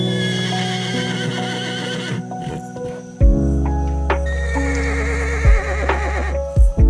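Loud horse whinnies and neighs in the video game ECOS: La Brea rise and fall, followed by deep snorting blows and a few hoof thuds, with no talking.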